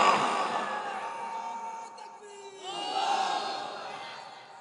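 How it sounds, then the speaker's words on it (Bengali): A large crowd at an outdoor religious sermon roars the takbir together, swelling in two loud waves of massed voices. "তাকবীর দিয়ে দেখায় দাও"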